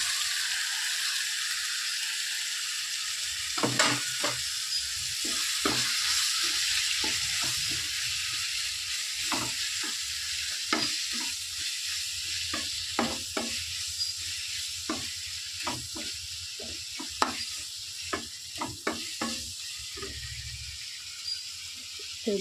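Prawns sizzle steadily in a pan with sautéed onion and tomato. A spoon stirs and scrapes at irregular intervals, giving sharp taps over the continuous frying hiss. The sound is close and persists throughout, with no talking.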